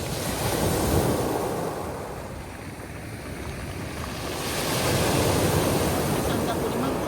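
Sea waves wash onto a sandy beach in a continuous roar that swells, eases and swells again, with wind buffeting the microphone throughout.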